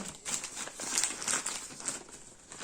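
Steady crinkling of a plastic bag being handled close by, a continuous rustle with small crackling peaks and no talking.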